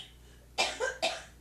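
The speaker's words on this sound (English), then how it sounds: "why don't you cough and so they can get a real feel of what it sounds like" A woman coughs three times in quick succession, the bursts close and fairly loud after a moment of quiet room tone.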